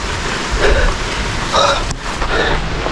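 Steady outdoor rain falls at a cemetery, a broad wash of drops with gusts that swell in intensity, dense and fairly loud throughout.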